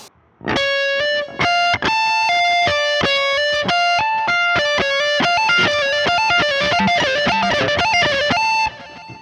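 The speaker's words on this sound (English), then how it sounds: "now we're going to take a look at the sweep picking arpeggio" A lightly distorted electric guitar rolls through fast sweep-picked arpeggios, notes cascading up and down in a steady repeating pattern.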